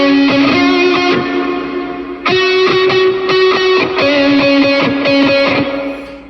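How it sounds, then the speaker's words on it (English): Third distorted electric guitar layer playing harmony lines in a song recreation, loud and sustained, with picked note runs, a brief pause near two seconds, then more harmonized phrases, played alone. "After that, there's a third guitar playing additional harmonies."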